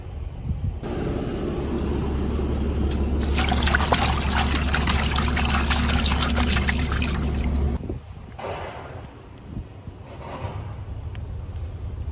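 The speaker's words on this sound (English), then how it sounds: "I'm now going to spray the remaining leaves with some ginger water and some detergent that I made this morning" A hand sprayer mists ginger water mixed with detergent onto plant leaves in a garden, giving a steady close hissing spray for several seconds before it stops, with quieter outdoor ambience following.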